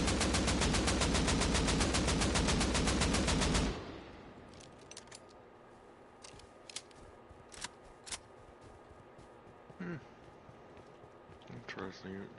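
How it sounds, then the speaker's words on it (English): An AK rifle in a video game fires a long full-auto burst without recoil control, loud and rapid for several seconds, then cuts off, leaving quiet ambience with a few scattered clicks and distant shots. "This is the AK. So this is without controlling recoil."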